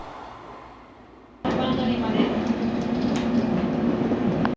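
A freight train passes through Akama station in Japan at night, bursting in suddenly after a quiet moment as a loud, steady rumble with rhythmic wheel clatter that continues close by.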